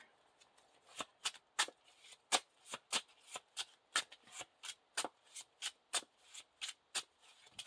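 Playing cards for the Lord of the Rings living card game shuffled by hand, about twenty quick riffling bursts in a steady uneven rhythm, close and quiet with no talk.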